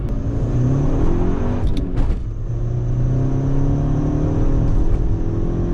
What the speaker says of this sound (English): I can hear a little bit of the crackles popping in the back